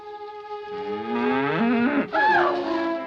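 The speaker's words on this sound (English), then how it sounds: "just a cow." A cow moos in a 1946 film scene, a long, loud, rising and wavering low call that swells and breaks briefly before continuing, close by and alone without talk.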